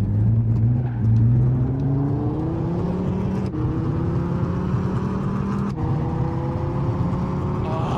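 Classic car engine in Gran Turismo 5, revving and pulling through the gears with rising harmonic whine, two sharp gear-shift breaks, loud and continuous with no talk over it.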